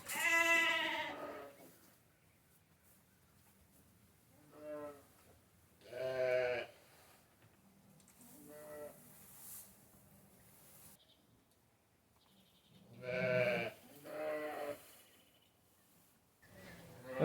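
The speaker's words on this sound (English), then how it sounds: "Looks like we might have us a nice little size ram lamb there." Sheep and a newborn ram lamb bleat in a barn during lambing season, with loud bleats in separate bursts near the start, middle and end, quiet stretches between them and no talk.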